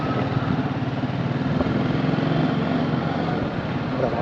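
A motorcycle engine runs steadily nearby with a rough, continuous throbbing drone and no breaks.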